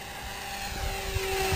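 A radio-controlled Mini Mag model plane drones steadily overhead, a continuous propeller buzz at moderate distance that holds for a brief moment, with no talking.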